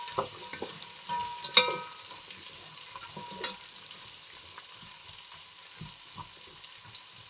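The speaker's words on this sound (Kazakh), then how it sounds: "сабызымызды салып осылай қуырамыз." Carrots fry in oil for home-made pilaf, with a faint, soft sizzle under intermittent stirring clatter and a few utensil knocks, one sharper clink early on.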